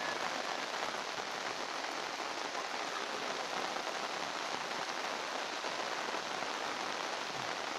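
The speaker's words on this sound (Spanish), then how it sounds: "Ha llovido toda la noche, toda la noche intensamente." Heavy rain pours steadily on a swollen river, a dense unbroken hiss of drops drumming on surfaces with no pauses.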